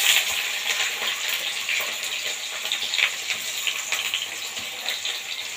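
Chopped onion hitting hot oil with black cumin and slit green chillies, a continuous bright sizzle and crackle that stays fairly steady throughout, close up and alone.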